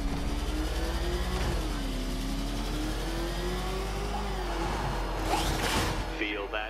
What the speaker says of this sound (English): Can't think and drive at the same time, Dark Knight